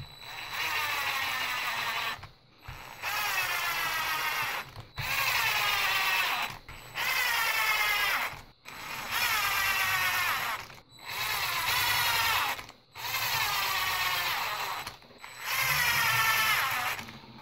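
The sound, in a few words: driving 10mm screws into a Traxxas TRX Sport build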